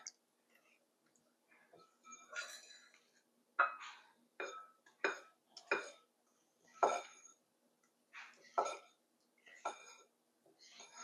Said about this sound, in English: I'm going to stir this all together